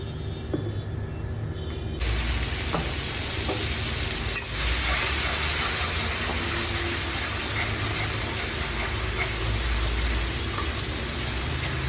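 Poppy seed and ginger-chilli paste hitting hot oil seasoned with nigella seeds and bay leaf in a wok, a sudden loud hiss that settles into a steady close sizzle with occasional faint stirring clicks.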